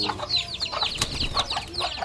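A flock of breeding chickens clucks and chatters close by, short choppy calls overlapping in a dense, continuous stretch with one sharper squawk in the middle.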